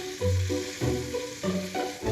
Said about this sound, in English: sizzling away here.